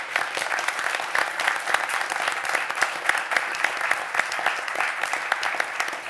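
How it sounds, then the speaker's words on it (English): Sustained round of applause from a seated audience at a university Board of Regents meeting, many hands clapping steadily and fairly evenly for several seconds with no talk over it. "I think they all deserve another round of applause"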